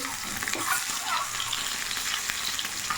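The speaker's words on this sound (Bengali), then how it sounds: "তাড়াতাড়ি হয়ে যাবে। আরেকটা সাইডে ভেজে দিচ্ছি।" Eggs fry in a hot pan beside cauliflower pieces, giving a steady close crackling sizzle throughout with small spits and pops, with no voices.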